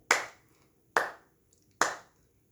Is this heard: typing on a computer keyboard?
no